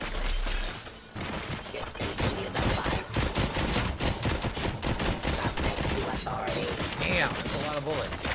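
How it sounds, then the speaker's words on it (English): Gunfire in a RoboCop video game: rapid volleys of machine-gun shots and impacts crackling almost nonstop, loud and dense, with some mechanical clatter mixed in. "Damn, that's a lot of bullets."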